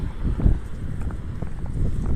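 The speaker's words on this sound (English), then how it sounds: "Oh, fuck, it's windy." Strong, steady wind buffeting an outdoor microphone during a marathon run, a dense low rumble with gusts swelling and easing throughout, loud and close with no voices.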